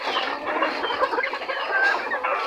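Black silkie chickens, a rooster and a hen, clucking close by in a steady run of overlapping calls, with no voices over them.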